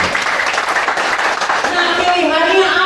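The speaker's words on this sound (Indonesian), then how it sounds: "Tepuk tangan dulu untuk kita." Seminar audience in a Bandung office hall breaking into applause, a dense, loud, steady clapping that continues throughout with a voice speaking over it toward the end.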